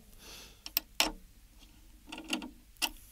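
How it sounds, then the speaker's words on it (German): Tension rods on a tom drum hoop are turned by hand until they just catch, giving a few faint, scattered metallic clicks and scrapes in a quiet room. "Ich drehe hier jetzt wieder ganz genauso jede Stimmschraube gerade so an den Spannreifen dran, dass er greift"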